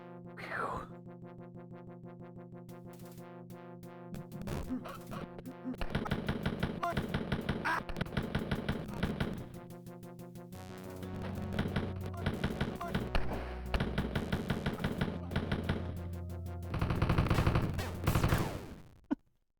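Rapid pistol gunfire from dual pistols in the Wolfenstein 3D video game, clusters of quick sharp shots in bursts over game music and effects.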